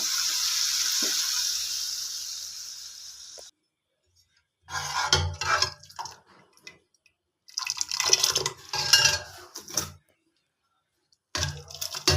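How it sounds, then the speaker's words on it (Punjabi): Hot tempering sizzles and crackles in loud, hissing bursts as it is poured into dhaba-style moong and chana dal after a steady frying hiss, with short silent gaps between the pours. "ਹੁਣ ਆਪਣਾ ਤੜਕਾ ਜਿਹੜਾ ਬਣ ਗਿਆ ਵਾ ਪੂਰਾ ਰੈਡੀ ਹੋ ਗਿਆ ਵਾ ਹੁਣ ਆਪਾਂ ਇਹਨੂੰ ਦਾਲ 'ਚ ਪਾ ਦਿੰਦੇ ਹਾਂ"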